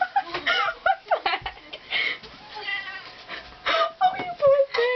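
A cat being dressed in a shirt meows and yowls repeatedly, loud and close, in drawn-out protesting cries with short gaps, while people speak and laugh softly around it.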